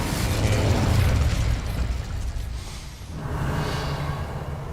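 Incendio fire spell cast in Hogwarts Legacy, a loud close burst of roaring flame that swells, dips and flares again before trailing off.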